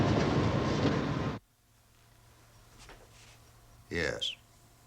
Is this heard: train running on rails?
yes